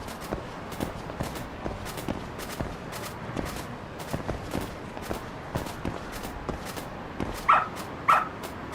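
A dog in the video game Lost Judgment pads along with quick, rhythmic footsteps, then lets out two short, sharp barks close by near the end.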